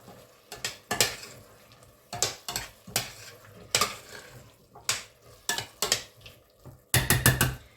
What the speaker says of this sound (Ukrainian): Все гарно перемішую так.